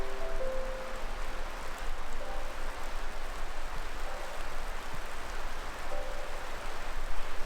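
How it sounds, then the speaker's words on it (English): Steady rain patters on a backpacking tent at a camp in the Seven Lakes Basin area of Olympic National Park, a dense continuous hiss with no talk, with faint tonal hums drifting in and out. "sure enough, it starts to rain."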